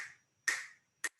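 Three sharp finger snaps spaced irregularly, each a crisp isolated click in a quiet room, mimicking the echolocation clicks of a sperm whale.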